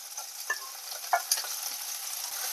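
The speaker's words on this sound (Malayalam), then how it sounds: "അതിൻ്റെ അകത്തേക്ക് വെളുത്തുള്ളിയും ഇഞ്ചിയും ചതച്ചത് ചേർക്കാണ്." Crushed garlic and ginger fry in hot oil in a pan for a crab roast, with a steady close sizzle and occasional stirring scrapes throughout.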